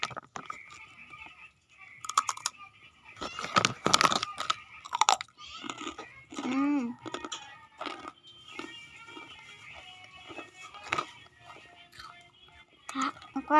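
Close crunching and chewing of a crunchy milk snack, irregular crisp bites and mastication mixed with soft whispered talk and small rustles.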